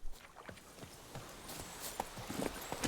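The horse Roach in The Witcher 3: Blood and Wine, heard as soft, fairly quiet clip-clopping hooves, a steady run of light hoof strikes at a walking pace.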